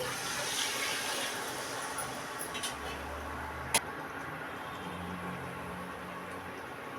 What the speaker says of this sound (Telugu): ఈ గిన్నెతో రెండు గిన్నెలు నీళ్ళు పోసుకున్నానండి